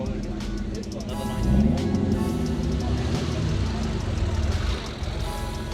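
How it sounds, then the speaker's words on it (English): A group of Porsche cars rolls into a Cars & Coffee meet in South OC, a steady engine rumble with a swelling roar in the middle as they pass close by, under outdoor crowd chatter. "a whole group of Porsches just rolled in"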